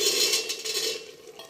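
Potatoes and chickpeas tumble into a frying pan and get stirred for a home-style sabzi, a short burst of clattering and scraping with a faint sizzle underneath and no talking.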